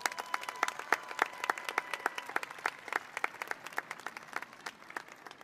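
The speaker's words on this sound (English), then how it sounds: "Give yourself a round of applause." A graduating class of 2021 applauds in a large stadium, a steady wash of many hands clapping with sharp individual claps standing out, moderately loud and continuous throughout with no talking.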